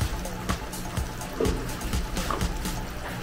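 Picadillo with carrots in a pot coming to a boil, giving faint bubbling, trickling and gentle knocks with small irregular pops over a low background.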